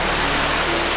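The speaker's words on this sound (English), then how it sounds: "This waterfall runs really close to the Llanberis path" A loud waterfall beside the Llanberis path up Snowdon in Snowdonia roars nearby, a steady, dense rush of falling water with no voices.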